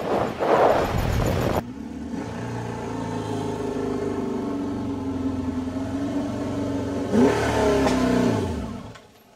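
A cafe racer motorcycle engine revs up sharply, settles into a steady, close idle-like drone, then revs again loudly before pulling away and fading out. No one speaks.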